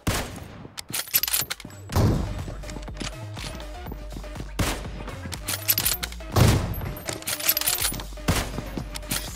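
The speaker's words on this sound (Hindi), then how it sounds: "रैंडम फायर किया हूँ ताकि उसको मेरी लोकेशन पता चल जाए" Gunfire in PUBG Mobile, a sniper duel match, rings out as sharp shots scattered across the clip, a couple of louder reports near the 2- and 6.5-second marks, over steady game ambience with no talk.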